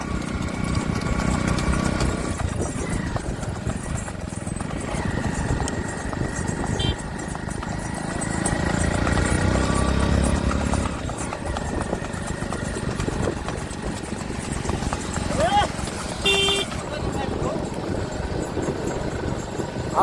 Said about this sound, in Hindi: सभी घोड़े जा रहे हैं इधर से